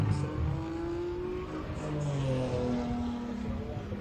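A BMW GT4 race car from the Bimmerworld team pulls away from pit lane at Virginia International Raceway, its engine note climbing steadily in pitch, a continuous mid-loud drone with other engines in the background.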